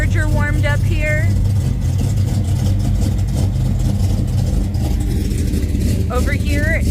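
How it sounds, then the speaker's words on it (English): A 1968 Dodge Charger V8 engine idles during warm-up at a drag strip test-and-tune event, with a deep, steady rumble, loud and close, while a person talks over it in short phrases at the start and end. "getting the Charger warmed up here"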